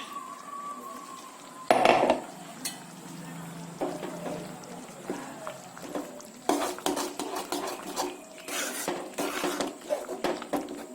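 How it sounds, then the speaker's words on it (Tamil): A spoon scrapes and stirs roasted spice powder into a simmering metal pot, giving short clinks and swishing sounds at an uneven pace. Quiet kitchen noise sits in the background. "இப்போ இந்த வறுத்த பொடியை தூவி கலந்துக்கலாம்."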